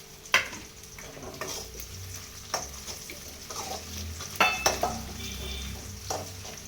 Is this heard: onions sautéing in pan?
yes